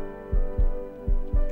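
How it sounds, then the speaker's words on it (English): Heartbeat sound effect in the visual novel Clockwork of the Heart, four deep thumping beats in a steady rhythm over a low sustained hum, fairly loud and without speech. "I feel her heart beating even more intensely."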